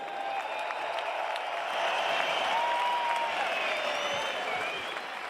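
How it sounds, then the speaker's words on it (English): A boxing arena crowd applauds and cheers after an IBF world title fight, a dense, sustained roar of clapping and voices that swells in the middle and stays loud throughout. "can we IBF world please have a champion. round of applause for these two world-class warriors?"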